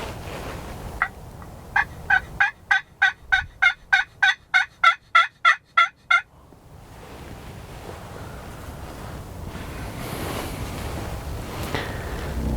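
Wild turkeys gobble during a spring hunt, a rapid series of about a dozen loud, evenly spaced rattling calls from a fairly close bird, then quiet outdoor ambience with a faint breeze and no talking.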